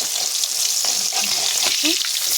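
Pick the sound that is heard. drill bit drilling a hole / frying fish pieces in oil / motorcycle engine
frying fish pieces in oil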